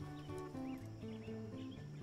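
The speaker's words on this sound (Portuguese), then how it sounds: "Cassie, segure o cavalo" A horse gives a faint whinny among soft hoof clops, set under a bed of steady music in a dubbed period drama.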